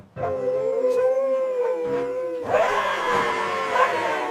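Cartoon puppies bark and howl together in a loud, sustained chorus, a single howling voice at first, then more dogs joining halfway through in a fuller, overlapping din.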